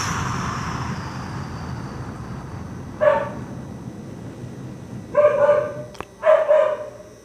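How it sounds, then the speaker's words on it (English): A dog barks three times in the distance, single sharp barks spaced a second or two apart, over a soft steady background hum. "Notice the body's response to it, our association with the dog bark"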